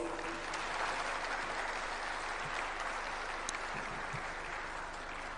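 Delegates at an African heads-of-state and government conference on human resources applaud in a large hall, a steady moderate wash of clapping heard from some distance throughout.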